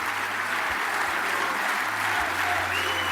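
Steady, dense applause from an audience, continuous and evenly loud across the whole stretch with no pauses.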